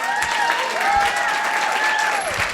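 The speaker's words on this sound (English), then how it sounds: "before we do a round of applause" Meetup audience applauding for Dr. Robert Kiltz in Tampa, a steady close burst of clapping with crowd noise and faint voices mixed in.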